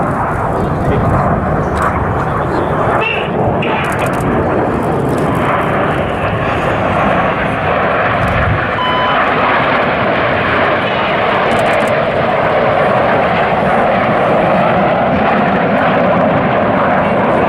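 Red Arrows jets roaring overhead while flying rollbacks at the Duxford airshow, a loud sustained rumble with rising and falling engine tone, heard under an announcer's commentary.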